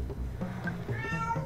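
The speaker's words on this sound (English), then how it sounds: "Whenever you hit record, she's meowing." A pet cat meows several times in quick succession, close and clear, with short rising and falling calls over a faint room background.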